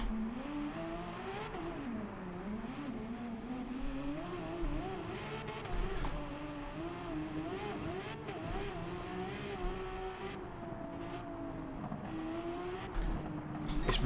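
A racing car engine in Gran Turismo 7 drones and revs continuously on a bright snow track, its pitch rising and falling through a long corner, loud and steady with no talking.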